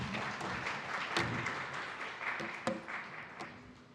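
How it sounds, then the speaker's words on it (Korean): Audience applause at a Seoul welfare policy forum on day care centers for the elderly, welcoming a research fellow to the podium; sustained, fairly soft clapping from a crowd with a few louder claps standing out. "큰 박수로 모시겠습니다."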